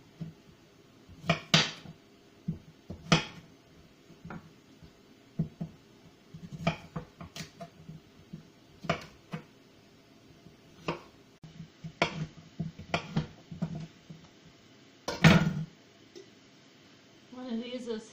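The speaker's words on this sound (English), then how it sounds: "Just cut these in chunks that can go in jars." A knife chops a peeled pumpkin into jar-sized chunks on a board, with sharp, scattered cutting knocks spread over the stretch and quiet gaps between strokes, close by. Talk can be heard between the cuts.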